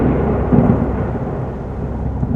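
Thunder rumbles over steady pouring rain in a storm, a continuous loud wash with a heavier low rumble swelling briefly near the start.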